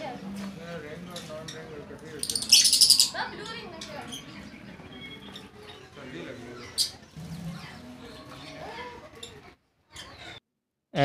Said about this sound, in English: And now you can see lovebirds.